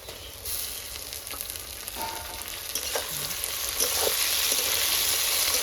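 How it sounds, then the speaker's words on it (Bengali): Chopped tomato sizzles in a hot pan, a steady crackling fry that builds louder toward the end, with a few soft clinks and stirring scrapes over it. "এখন দিয়ে দিচ্ছি টমেটো কুচি।"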